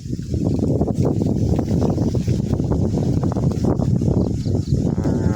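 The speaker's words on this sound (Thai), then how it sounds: "มีแต่ลมนี่พี่น้อง ลมมาแล้ว" Strong wind gusts across open rice fields under dark, overcast skies, a loud continuous buffeting rush with heavy rumble against the microphone.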